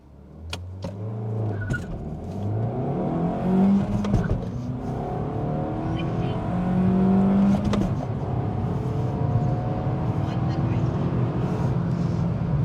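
A Suzuki Swift Sport Hybrid 1.4 Booster-Jet accelerating hard from a standstill, its engine note climbing through rising revs and gear changes, loud and steady from inside the car.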